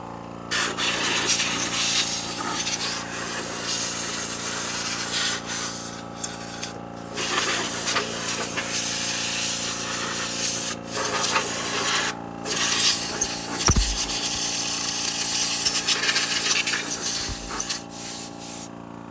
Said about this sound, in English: And then I'm just kind of like having to pry. There we go. Basically pry it out.